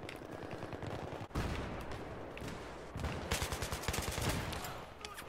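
Rapid automatic gunfire in a Battlefield 3 multiplayer match, sustained loud bursts with a sharp blast near the start, continuing close and heavy throughout.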